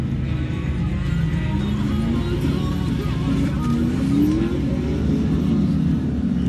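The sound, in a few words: turbocharged car engine revving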